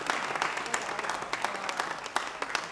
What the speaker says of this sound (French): On applaudit pour ça.